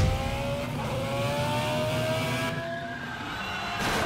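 A Ferrari F49 in a vehicle simulator video game, racing a Pagani Zonda R, accelerates hard with a continuous loud engine roar whose pitch climbs steadily through the gears, heard alone without talk.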